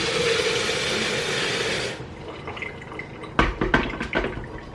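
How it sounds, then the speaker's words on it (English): Broad hissing rush of about a cup of cold water pouring steadily into a blender for about two seconds, then quieter clinks and a few sharp knocks and taps close by. "I usually put about a cup's worth of cold water in it."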